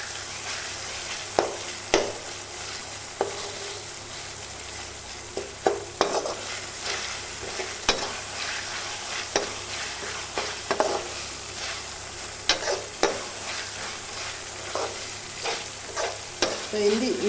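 Ginger garlic paste sautés in a pan for goat head curry, a steady frying sizzle broken by repeated scraping stir strokes at an uneven rhythm, close and clear with no talking.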